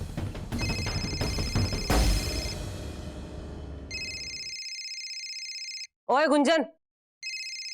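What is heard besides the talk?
telephone ringing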